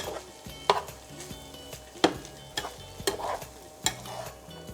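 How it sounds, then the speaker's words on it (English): Food sizzles steadily in a pan while a utensil scrapes and knocks against it in irregular strokes, close up with no talking; cold rice is being stir-fried. "And keep frying, keep stirring."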